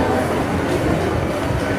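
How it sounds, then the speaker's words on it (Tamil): A train pulling into Kollam Junction railway station, a broad continuous rumble and rail noise filling the platform steadily for the whole stretch, with no clear voices over it. "ஒரு ட்ரெயின் அரைவ் ஆகிட்டு இருக்கு, அதனால சவுண்ட் போட்டே இருக்கு"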